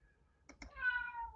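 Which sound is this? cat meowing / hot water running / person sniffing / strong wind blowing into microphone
cat meowing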